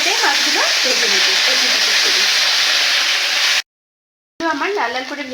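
Tangra fish sizzle hard in hot mustard oil in a kadai, a loud, steady crackling hiss close by that breaks off briefly, then comes back with a voice talking over it.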